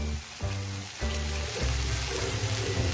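Potato and peas sautéing in a pan with chili powder and salt, a steady sizzle broken by scraping stirs at regular intervals, close and moderately loud with no talk.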